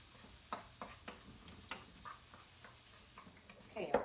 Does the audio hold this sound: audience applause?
no